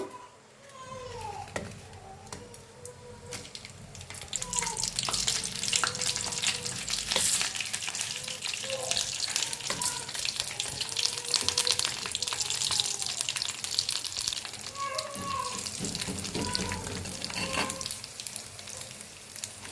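Spices for tempering crackle and hiss in hot oil for an old-style mango chutney. The sizzle swells loud and steady after a few seconds and continues under a person's talking.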